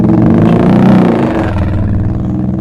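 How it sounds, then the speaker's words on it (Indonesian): A motorcycle engine outside, a loud, close, rumbling drone that swells and then eases slightly as it passes, filling the whole clip. "suara motor."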